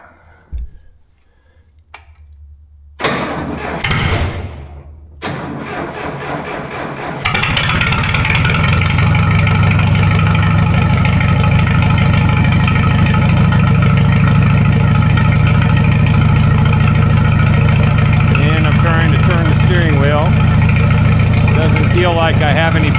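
A Ford 302 V8 with no muffler fires up after a few seconds of quieter clatter, then runs loud and steady with a deep, raw exhaust rumble and constant idle roar up close.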